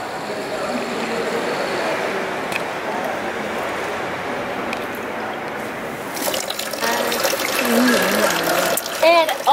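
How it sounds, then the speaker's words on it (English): Water splashes steadily from a public fountain in Lugano, Switzerland, heard up close and continuous, then grows louder and more broken as a bottle fills; a voice talks intermittently over it near the end. "getting some water from the fountain"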